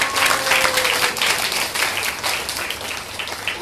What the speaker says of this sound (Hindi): इसलिए आप जितने लोग इनके लिए सबके जोरदार ताली बजा सकते हैं।